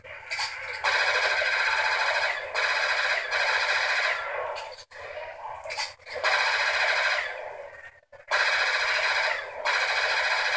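Rapid automatic gunfire from Black Ops 2 Zombies comes in long, loud bursts separated by brief pauses, with the fire stopping and restarting several times.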